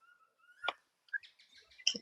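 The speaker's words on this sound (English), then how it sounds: "he has a bad habit of chirping while I'm in the middle of talking to people" Henry, a small pet bird, gives a few quiet, scattered chirps and a thin sustained whistle. The short tweets come at irregular moments in an otherwise near-silent room.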